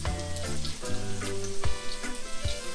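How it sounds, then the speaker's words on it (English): Seasoned oxtail sears in a hot pan, a close continuous frying sizzle with crackling pops and a few heavier spits, no voices. "So I'm going to sear this on both sides."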